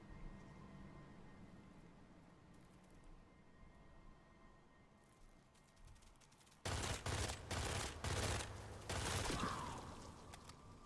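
Rotweaver gun firing in Witchfire, a roguelite FPS: after a quiet stretch of low ambient hum, a rapid burst of loud shots breaks out and continues in quick repeated volleys.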